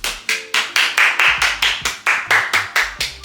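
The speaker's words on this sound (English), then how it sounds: "Can we get a round of applause for Skims?" Steady clapping from a small group or a single person, about a dozen sharp, evenly spaced claps over three seconds, close and clear with no talking.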